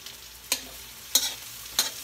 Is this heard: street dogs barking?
no